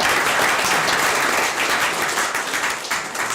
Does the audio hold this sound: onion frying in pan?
no